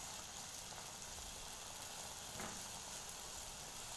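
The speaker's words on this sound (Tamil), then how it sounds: "ரெடி பண்ணியிருக்க உருண்டையை எண்ணெயில் போட்டு பொரித்து எடுத்துடணும்" Steady, faint sizzling and crackling of balls of batter frying in hot oil for Sri Lankan vaipan, a continuous hiss with no talking.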